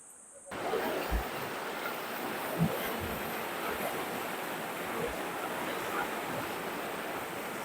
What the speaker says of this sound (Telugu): చాలా స్పీడ్గా, చాలా ఫోర్స్ ఉంది వాటర్లో